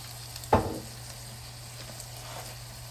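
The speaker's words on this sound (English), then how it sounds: "you want to kind of keep stirring that up until it reduces down" Risotto simmers and sizzles softly in an overfilled skillet, a steady low bubbling with one sharp knock of a utensil early on, close and quiet with no voices.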